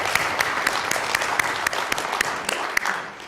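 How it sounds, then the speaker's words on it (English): Applause from a conference audience at a blockchain and security panel, a steady dense patter of clapping lasting the whole stretch, moderately loud and without speech over it. "Maybe a round of applause actually for Albert"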